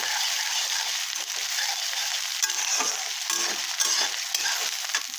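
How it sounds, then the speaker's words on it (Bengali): Dried chilies, ginger, garlic and green chilies fry in hot oil for a peas and mushroom dish, a loud steady sizzle with scraping stirs throughout. "এখন আমি এখানে শুকনো মরিচের সম্বাদ দিলাম, তারপরে আদা রসুন কাঁচা লঙ্কা যেটা ছিল ওটা দিয়ে দিলাম।"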